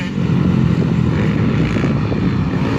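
A motocross bike with a dual Yoshimura exhaust at motocross practice on Evergreen Speedway, a steady loud engine drone held for a few seconds with no talking.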